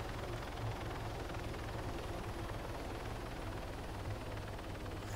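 A helicopter in the video game Arma 3 gives off a continuous loud whirring rotor and engine drone, steady and close, with no speech over it.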